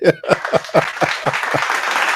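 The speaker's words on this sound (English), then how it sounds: "Give him a round of applause." A few hands clapping in a quick, sharp rhythm, close and dry, a brief small round of applause lasting about two seconds.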